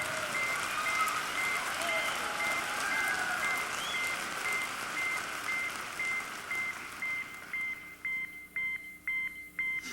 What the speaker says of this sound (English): my beeper